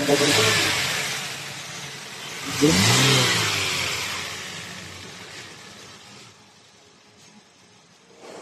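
A Morris Garages car engine with a throttle delay issue revs hard in a quick burst, then drops back to a quieter idle that fades off, heard up close.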